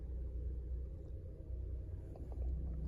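Manual stick-shift car in first gear creeping forward as the clutch is slowly released with no throttle, a steady low engine rumble that stays even and close throughout.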